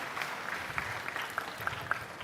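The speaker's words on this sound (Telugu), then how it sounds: "గట్టిగా చప్పట్లు కొట్టి అభినందించండి" An audience claps during a government meeting addressed by the Andhra Pradesh chief minister. The applause is moderate and steady, with scattered sharper claps standing out over about two seconds and no speech.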